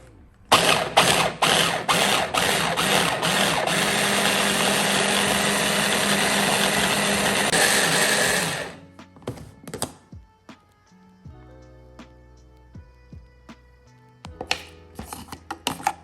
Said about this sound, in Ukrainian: Далі закриваємо нашу чашу і блендеримо.